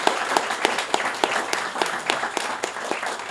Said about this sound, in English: Can we do another giant round of applause for these guys?